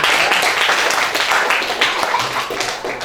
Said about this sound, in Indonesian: Ya, tepuk tangan Bapak.